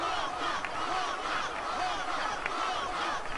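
Crowd noise from a Final Fantasy X blitzball match, a continuous dense mass of cheering and shouting voices filling the whole stretch.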